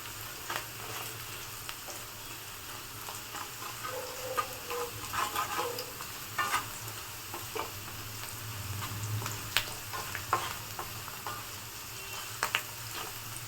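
Onions frying in a pan for puliogre gojju, a continuous close sizzle with frequent crackles and the scrape of stirring, steady for over thirteen seconds with no talking.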